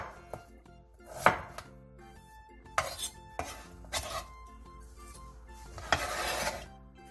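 A knife slices halved potatoes about 0.3 cm thick on a cutting board: a handful of sharp, close chopping strikes at an uneven pace, with light kitchen clatter in between and no talking.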